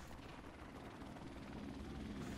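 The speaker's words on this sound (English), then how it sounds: "apparently, they hacked and got a helicopter" Enemy helicopter in the video game Call of Duty: Infinite Warfare, a steady low rotor drone and rumble held at a constant level, fairly faint and continuous.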